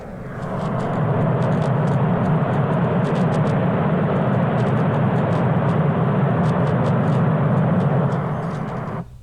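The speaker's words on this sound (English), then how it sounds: "So listen to this. This is brown noise." Steady brown noise played for relaxation, a loud, deep, rumbling hiss that holds constant for the whole stretch before cutting off abruptly, with no voices over it.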